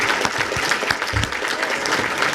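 A conference audience at an economic forecast event gives a big round of applause for the expert panel; thick, continuous clapping from many people persists throughout.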